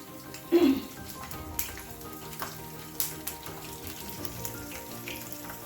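Cumin seeds and garlic fry in hot oil, giving a continuous crackling sizzle with a brief louder burst near the start and scattered pops and spatters after it.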